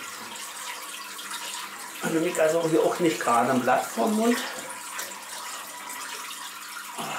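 Water is poured into a 1-metre Eheim aquarium during a water change, giving a steady splashing gush of moderate loudness while someone talks over it.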